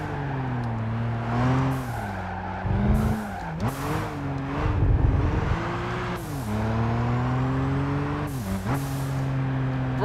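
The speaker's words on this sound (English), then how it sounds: "Oh, listen to that turbo, though." A turbocharged race car engine in the Gran Turismo 5 video game revs hard through its gears, with whooshing turbo spool, sharp downshifts and brief tire squeal under braking, loud and continuous.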